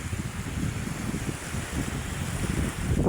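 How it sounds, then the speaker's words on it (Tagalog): Ocean waves at Manila Bay, a continuous rolling wash of surf mixed with wind noise buffeting the microphone, moderately loud and steady, with no talking. "Ayan ang ating alon."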